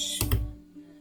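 A couple of quick, close keystrokes on a computer keyboard land in fast succession, followed by a quiet tail with nothing else happening.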